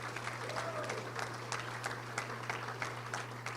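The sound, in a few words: audience applause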